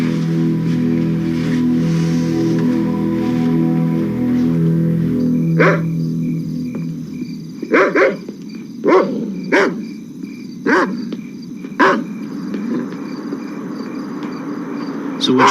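Dogs bark in a string of sharp, repeated barks at an alarmed perimeter gate, coming after a stretch of talk and carrying on at irregular intervals against a backdrop of night insects.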